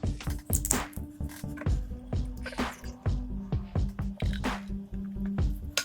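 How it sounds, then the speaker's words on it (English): Beer poured from a bottle into a glass, with close, wet glugging splashes and gurgles arriving in an uneven rhythm, rising and falling over several seconds. "So let's pour a glass of this."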